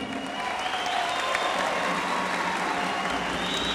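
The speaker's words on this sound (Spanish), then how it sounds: "para quien pido un aplauso." A crowd of party supporters at a political gathering applauds for President Fernández, a dense, sustained wash of clapping that holds steady at full strength for the whole stretch, loud and without talk.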